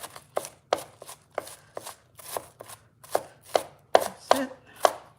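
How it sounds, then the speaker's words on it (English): A knife chops food on a cutting board while cooking cornmeal, about a dozen sharp, close thuds in an uneven rhythm over five seconds, clustering faster near the end, with no talking. "So I'm just chopping up."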